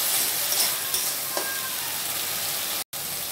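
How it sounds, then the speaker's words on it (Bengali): Ginger garlic paste frying in a pan while being cooked down for prawn malai curry, a steady close sizzle with faint stirring scrapes, cut off by a brief silence near the end. "এর সাথেই দেবো আমি একটু আদা রসুন বাটা, দিয়ে এটা আমি একদম খুব ভালো করে কষিয়ে নেব"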